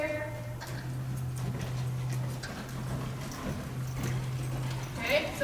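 A horse loping in a counter-canter, its hoofbeats a faint, steady clip-clop under a constant low hum, with a voice speaking over it.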